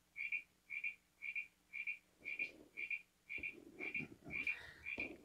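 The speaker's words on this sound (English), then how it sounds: "Plays the frogs." Recorded frog croaks played back through a DTMF decoder circuit built around an MT8870 chip with a PICAXE microcontroller: ten evenly spaced, bright electronic-sounding croaks, close and loud, over a faint hum with some low rumbling in the second half.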